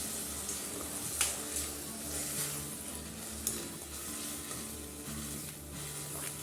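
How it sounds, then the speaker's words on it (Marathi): Crushed ridge gourd for thecha sautéing in a pan, giving a steady close sizzle and crackle with a few sharp clicks of stirring, no voices. "आपल्याला याच्यामध्ये ठेचलेला दोडका टाकायचा आहे दोडका आपल्याला परतून घ्यायचं आहे"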